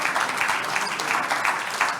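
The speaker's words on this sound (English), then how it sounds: "Please, let's keep clapping." An audience at a conference closing session claps steadily, a dense sustained patter of many hands filling the room with no break, no voices standing out.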